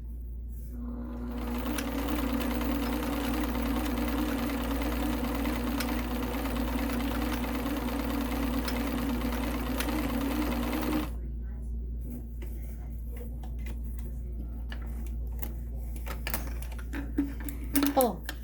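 An Elna Supermatic sewing machine stitches with a steady, rapid mechanical whir and clatter for about ten seconds, then stops, leaving quiet handling clicks and light taps close by.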